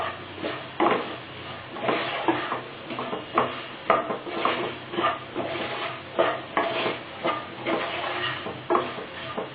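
Salted potato fry being stirred in a pan, with a spoon scraping and knocking the metal in an irregular rhythm over a faint sizzle, close and alone with no talk.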